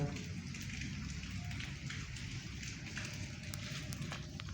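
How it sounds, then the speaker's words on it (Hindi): Steady rain falls outdoors, a dense continuous patter with scattered sharper drop hits on nearby surfaces, moderately close and unbroken throughout. "अब ये बारिश है"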